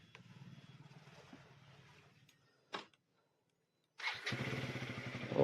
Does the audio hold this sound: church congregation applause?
no